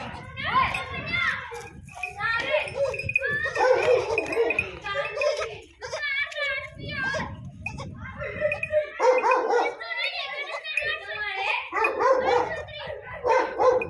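A dog barks and yips repeatedly amid excited children's voices and chatter, lively and close.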